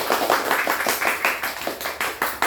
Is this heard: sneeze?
no